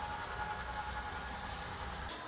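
An HO scale model train runs on a large Western Maryland layout, giving a steady, continuous rolling rumble with faint rail clatter, held at an even level and heard alone without talk.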